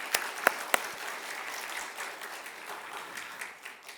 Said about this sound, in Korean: 이 시간 다 함께 격려의 박수로 우리 선생님들을 격려하도록 하겠습니다.